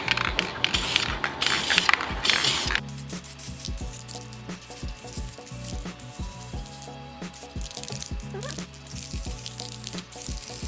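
Aerosol spray paint hisses onto masked, degreased EK Honda Civic brake calipers in a steady burst for about three seconds, then background music takes over for the rest.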